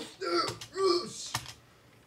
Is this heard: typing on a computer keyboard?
yes